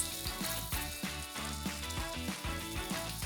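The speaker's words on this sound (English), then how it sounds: "reduce the flame to a medium and fry the Galouti kebabs" Galouti kebabs frying in hot ghee on a tawa over a medium flame give off a steady, close sizzle with soft crackles, constant and alone without any voices.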